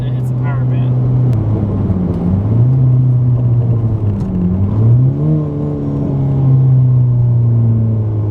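A Ford Fiesta fitted with a tuning chip pulls hard in third gear, its engine drone climbing and dipping with throttle changes before rising steadily through the revs, loud and close from inside the cabin, with no talk over it.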